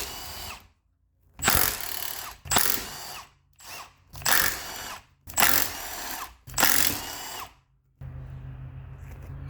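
A power tool spins out 10mm bolts from a Ford Focus Powershift DPS6 transmission case in six loud, close bursts of whirring and ratcheting separated by brief silences, followed by a low steady hum.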